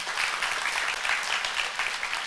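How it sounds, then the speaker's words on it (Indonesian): Dense, steady applause from a church congregation during a Sunday worship service, a continuous wash of many hands clapping at once with no voices standing out. "Tepuk tangan yang meriah bagi dia."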